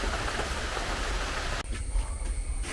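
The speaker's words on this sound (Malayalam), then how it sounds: "രാവിലെ മുതൽ അത്യാവശ്യം നല്ല മഴയാണ്." Heavy monsoon rain pours as a loud, continuous wash. Partway through it drops to a quieter, thinner patter, as if the listening spot moved under cover.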